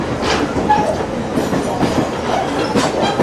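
A Cape Cod Central Railroad passenger train rolls along its tracks with a steady, loud rumble and clatter of wheels, heard from on board and without any talk.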